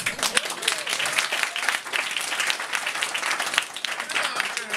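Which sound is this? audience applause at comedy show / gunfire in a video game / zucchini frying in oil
audience applause at comedy show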